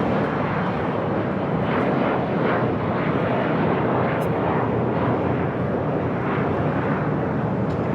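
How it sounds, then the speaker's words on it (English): An Asiana Airlines Airbus A380 takes off from Los Angeles airport bound for Seoul, a loud continuous roar of jet engines filling the air without pause. "This is Asiana Airlines Flight 201 taking off to Seoul on the A380."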